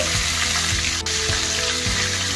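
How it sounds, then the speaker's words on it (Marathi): Seven or eight crushed garlic cloves hit hot oil with asafoetida for an Agri-style crab masala, giving a loud, close, continuous sizzle with crackling and small stirring knocks. "त्याचबरोबर 7 ते 8 ठेचलेल्या लसणाच्या पाकळ्या घालते"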